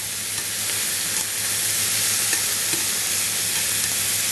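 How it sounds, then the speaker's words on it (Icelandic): Food sizzling as it fries in a pan on a home stove, a loud, steady hiss that stays constant throughout with no one speaking. "steikja þetta á pönnunni."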